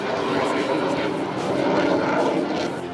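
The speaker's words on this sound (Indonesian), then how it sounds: "Gemuruh mesin pesawat tempur sempat menggetarkan" Roar of military aircraft engines as a fighter jet, an F-16 or EMB 314 Super Tucano, comes in to land on a toll road; a loud, steady broadband rumble fills the whole span with no clear break.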